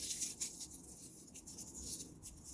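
A thin sheet of Mylar being balled up by hand, giving a steady, close, quiet crinkling and rustling that runs throughout with small bursts of crackle.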